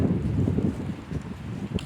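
Steady wind buffets the microphone outdoors on a Nepali hillside during a rhododendron-picking outing, a low continuous rumble with gusty swells and no talk.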